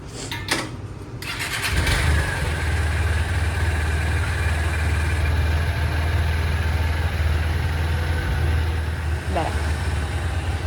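A motorbike engine starts after a few opening clicks and settles into a steady, close idle with a low rumble. Voices are heard faintly under the engine.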